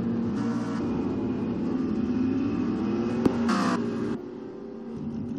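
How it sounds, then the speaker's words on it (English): A race car makes a quick pit stop during a Pokemon NASCAR video game race at Talladega: a steady engine drone with a brief rise in intensity, then a drop as the car leaves, with no talking. "That was a quick pit stop by the 16."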